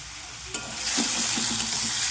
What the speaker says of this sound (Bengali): খুব ভালো করে মটরশুঁটি আলু ভেজে নেব